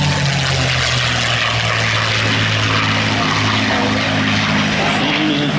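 A P-51 Mustang's piston engine and propeller roar loud and close at the Wings Over the Illawarra 2021 air show, a dense, steady drone that holds throughout.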